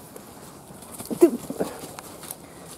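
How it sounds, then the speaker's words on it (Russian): A horse runs past outdoors in an autumn vegetable garden, a short burst of hoof clip-clop rising and fading over about a second, fairly faint against quiet background, with a brief spoken word nearby. "Пронеслась лошадь"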